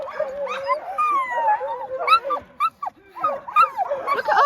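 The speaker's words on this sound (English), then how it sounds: "Don't you like dog barking?" Several excited dogs at a canicross event yip, whine and bark in busy overlapping bursts, close by, with people talking over them.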